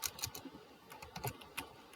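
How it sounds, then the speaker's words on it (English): Typing on a computer keyboard, a quiet, irregular run of light, crisp key clicks close by, with no voices. "I can just start typing at the bottom."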